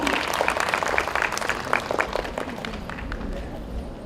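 Audience applause at a school Republic Day celebration, a dense spread of clapping that holds steady for several seconds and then begins to thin toward the end, with some crowd noise underneath.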